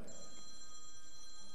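A phone rings with a steady electronic tone during a church gathering, heard fairly faintly in a quiet room with no talking.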